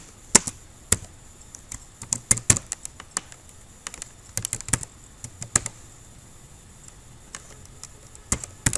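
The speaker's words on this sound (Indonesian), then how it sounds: "Kemudian kita ketikkan sintaknya." Commands are typed on a laptop keyboard, an irregular stream of close, sharp key clicks coming in quick clusters with short pauses, alone in a quiet room.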